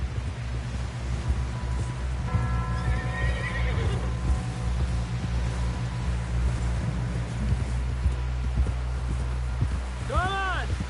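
A horse whinnies loudly near the end in Red Dead Redemption 2, its call rising and falling, over steady hoofbeats and background game ambience while a voice speaks briefly.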